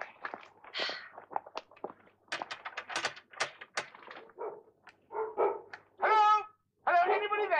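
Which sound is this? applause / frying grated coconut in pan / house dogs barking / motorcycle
house dogs barking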